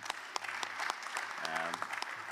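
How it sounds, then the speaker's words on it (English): Brief applause from an audience at a UN food systems coalition event greeting an ambassador, scattered claps mixed with room noise and a faint voice. "So a round of applause, please, for His Excellency."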